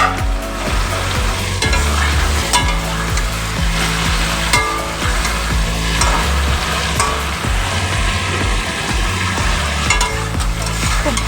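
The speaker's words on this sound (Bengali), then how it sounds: "খুব ভালো করে সবজিটা ভেজে নেব।" Vegetables frying hard in a pan for a Bengali fish curry, a loud, dense, steady sizzle with frequent stirring clatter throughout, close up.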